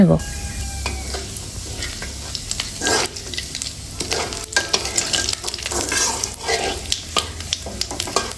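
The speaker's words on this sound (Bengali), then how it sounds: "এখন এই তেলের মধ্যে দিয়ে দিব আস্ত জিরা কয়েকটা শুকনো মরিচ এগুলো একটু নেড়ে চেড়ে ভেজে" Whole cumin seeds and dried chilies crackle and sizzle in hot oil while a spoon scrapes and stirs the pan in irregular clinks, close and moderately loud.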